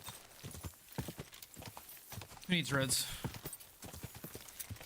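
A horse ridden in Kingdom Come Deliverance 2 gallops with rhythmic hoof thuds throughout, and a brief whinny rises midway. Someone talks over the hoofbeats.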